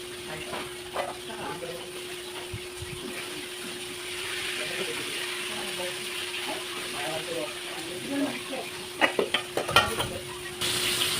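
Chicken frying in oil, a steady low crackle and sizzle with a constant hum, with scattered sharp pops and clatter near the end, close and continuous with voices faintly around it.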